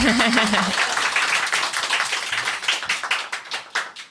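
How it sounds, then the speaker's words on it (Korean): About twenty elementary school teachers, seated as a studio audience at a live-style broadcast, applaud themselves, with a brief voice at the start and then lively clapping that thins into distinct separate claps toward the end. "자기한테 박수 한번 또 쳐주시겠어요"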